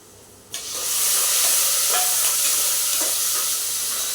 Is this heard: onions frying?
yes